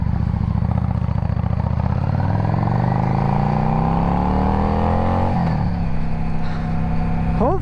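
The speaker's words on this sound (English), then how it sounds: "hopefully you guys can hear the exhaust, but not that loud" A loud 1998 Yamaha V Star 650 motorcycle exhaust, close by, rumbling steadily as the engine revs and its pitch climbs, then briefly drops before rising again.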